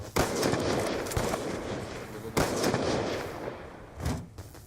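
Rapid bursts of gunfire from Call of Duty: Black Ops 2 multiplayer, loud and close, with sharp cracks repeating across the clip and brief gaps between volleys.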